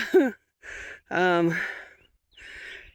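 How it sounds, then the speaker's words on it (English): A hiker climbing a steep trail in Gila National Forest breathes heavily and close to the microphone, with several loud, ragged breaths, sighs and gasps coming in uneven bursts separated by short pauses. "sorry about the heavy breathing. It's steep."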